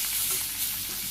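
Magur catfish pieces go into hot oil and fry with a dense, steady sizzle, crackling and hissing continuously at close range with no voices.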